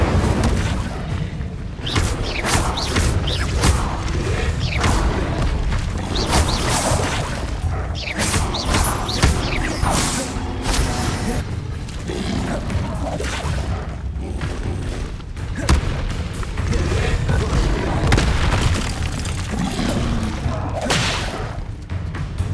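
In the video game Hogwarts Legacy, fire spells are cast in a busy battle, with repeated booms, thuds and whooshes packed tightly together for over twenty seconds at loud volume.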